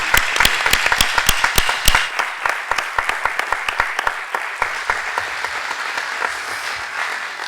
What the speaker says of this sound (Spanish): os pediría un aplauso para ellos antes de terminar.